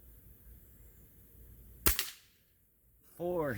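A single sharp air rifle shot, from a Crosman Shockwave or Gamo Wildcat Whisper .22, cracks out at mid-distance over quiet background hiss, with a brief echo after it and a voice starting up near the end.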